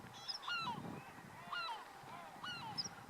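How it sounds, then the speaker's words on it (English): Gannets calling at a crowded seabird colony on Great Saltee Island, harsh honking cries repeating about once a second in a steady rhythm, several birds layered over a constant background clamor, no voices. "I'm heading over to the gannery now, and hopefully I'll get some close-up shots of the gannets."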